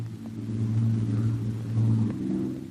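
A Fairey Albacore single-bay biplane with a radial engine and fixed undercarriage flies past, its steady, loud, low droning rumble swelling and then cutting off abruptly.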